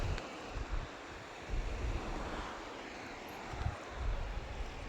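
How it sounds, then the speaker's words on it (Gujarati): Sea surf rolling in along an open coast where shrimp are farmed, a steady wash with gusty wind buffeting the microphone and periodic surges of breaking waves, no talking. "આપણો દરિયો"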